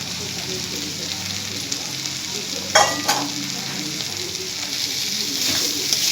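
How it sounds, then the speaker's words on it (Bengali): Fried rice and fried potatoes being stirred into spices in a pan for muri ghonto, a continuous gentle sizzle with a couple of sharper stirring scrapes. "এরপর সব উপকরণগুলো ভালো করে মিশিয়ে নিচ্ছি"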